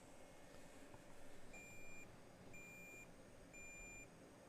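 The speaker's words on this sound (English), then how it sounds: "see if we can get a RAM beep code" A computer's RAM error beep code: three evenly spaced high electronic beeps, each about half a second long, sounding over a low steady fan and machine hum. No one speaks.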